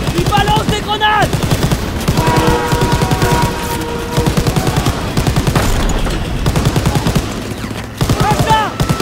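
Dense automatic gunfire and machine-gun bursts from the World War II shooter Call of Duty WW2, loud and continuous across the clip, with shouted voices briefly cutting through the battle noise.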